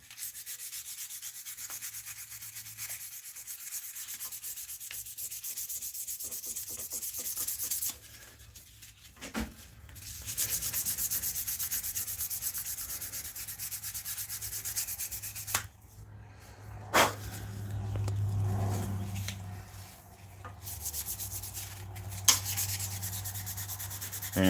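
Steady abrasive rubbing of hand sanding a knife blade, long back-and-forth strokes with brief pauses, close and continuous.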